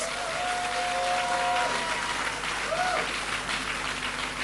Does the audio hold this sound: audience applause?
yes